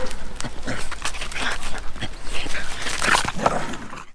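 Dogs play and pant beside a parked camper van, with quick breathy panting and scuffling over a steady outdoor background and no talk.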